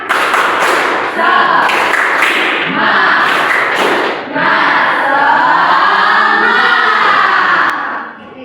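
A classroom of students performs the 'tepuk semangat' rhythmic spirit clap, loud and close, with patterned claps, thumps and group shouting mixed in, under continuous crowd noise.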